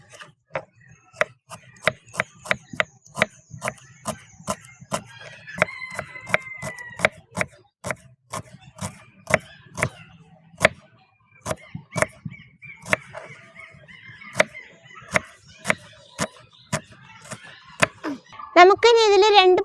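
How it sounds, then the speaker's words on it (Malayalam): A knife chops onions on a board in a quick, steady run of sharp taps, close and distinct. Faint chicken clucks sound in the background, with a brief clatter near the end. "ഒരു 3 ഉള്ളി നമുക്ക് അരിയാം."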